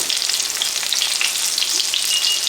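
Chicken frying in hot oil at about 366 degrees for a crispy chicken sandwich, giving a dense, even crackling sizzle with scattered pops, close and constant.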